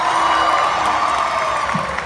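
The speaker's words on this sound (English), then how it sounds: "Round of applause for Hulk." Fans at a Wizard World convention panel in Philadelphia clap and cheer, a steady, full crowd roar with scattered whoops poking through the sustained applause.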